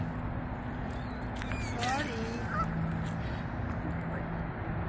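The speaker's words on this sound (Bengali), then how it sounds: "পাখিগুলো, হাঁসগুলো আমাদের দেখে আমাদের দিকে চলে আসছে" Geese and ducks honk at Tibbetts Brook Park in Yonkers, New York, while the birds approach people hoping for food. Several overlapping calls sound close and loud over steady outdoor background noise, with voices talking.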